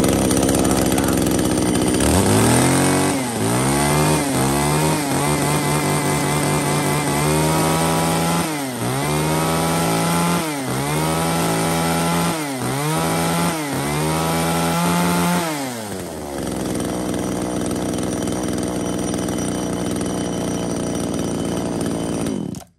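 A small used Japanese chainsaw runs loud and close. It revs up and down in repeated bursts while cutting wood, then settles to a steady idle.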